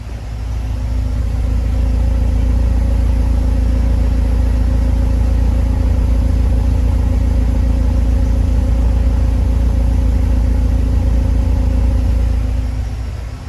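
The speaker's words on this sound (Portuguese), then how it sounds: "Acabei de ligar o carro, não tá falhando muito agora não." A Volkswagen Gol G6 engine with a misfire fault idles after starting, a loud, steady low rumble heard close up near the exhaust, even and unbroken for the whole stretch with no talking.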